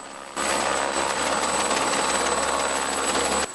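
A Malagasy armed forces helicopter arrives, its rotor and turbine roar cutting in abruptly and holding steady and loud. The noise is broad and dense, with no voices.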